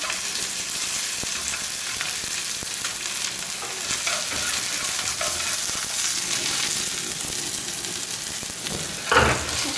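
Tofu and meat frying in a wok with oil during a Chinese cooking practical, a steady dense sizzle with stirring scrapes throughout, one louder clatter near the end.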